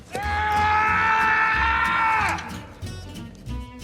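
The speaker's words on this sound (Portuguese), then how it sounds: "dá um grito insano que parece ter vindo das profundezas da sua alma" A man in a film battle scene lets out a long, loud, anguished scream after kicking a helmet, held for about two seconds before breaking off into quieter background noise.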